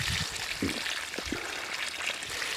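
Water from a pipe splashes into a sack of soil planted with ginger, producing a soft, irregular gurgling and pattering nearby with a few low thumps.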